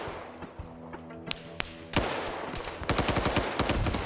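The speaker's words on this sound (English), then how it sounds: "Return suppressing fire coming in from the flanks." Suppressing gunfire in a military video game match: scattered single shots, then heavy rapid bursts of automatic fire close by, growing denser toward the end.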